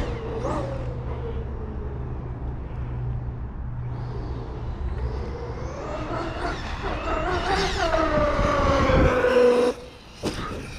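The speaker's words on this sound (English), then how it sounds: "every time I drive this truck with the 1650," Traxxas Sledge RC monster truck with a Castle 1650kv motor, driven hard; a whining electric drive rises and falls in pitch, with a rumbling undertone and a sharp bump near the end, loud and close with no talk.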